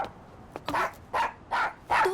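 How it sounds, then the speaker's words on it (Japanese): A dog barks four times in a short, evenly spaced series, close and fairly loud, with yipping, slightly whining tones and no talk over it. "何に吠えてる？"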